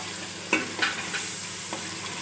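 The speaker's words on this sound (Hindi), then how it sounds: "आप देख रहे हैं हमारा मसाला भून रहा है।" Masala for beef paya frying in a pot, a steady close sizzle broken by a few soft stirring scrapes, with no voices.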